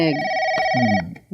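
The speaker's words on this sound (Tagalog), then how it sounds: "telepono." A telephone rings once, a bright electronic trill lasting about a second, with a voice speaking underneath it.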